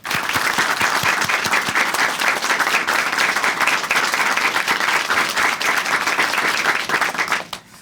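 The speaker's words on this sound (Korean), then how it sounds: "박수로 응원해드리겠습니다." An audience at a Korean church testimony programme breaks into sustained, dense applause, loud and even throughout before cutting off near the end.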